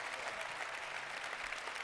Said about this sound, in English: So a round of applause for these guys